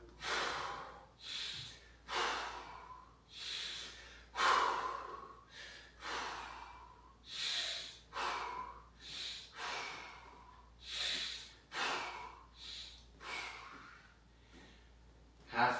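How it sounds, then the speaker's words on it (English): Heavy, rhythmic breathing during chest press reps, with about a dozen loud, close inhales and exhales in a steady cycle of roughly one breath every second or two, no talk. "I'm going to breathe in,"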